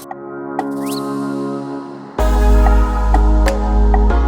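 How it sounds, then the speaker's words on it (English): Shower water rinsing Creme of Nature Plex conditioner out of hair: a faint hum at first, then the spray suddenly gushes in loud and steady, a close rushing wash with a few small drips and knocks. "So as I'm rinsing the rest of the conditioner out of my hair"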